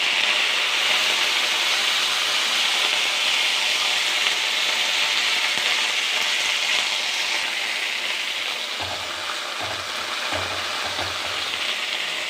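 Drumstick leaves hitting a hot pan already popping with mustard seeds and chillies, giving a loud, steady broadband sizzle that runs throughout, with a few low thumps near the end as the leaves are moved around.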